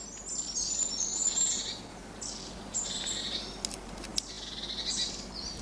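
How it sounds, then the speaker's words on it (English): Wild birds, including jays, call and chirp around a garden feeding table, with bright, repeated high calls in short bursts close by, no voices. "All I seem to be doing is feeding the local bird population."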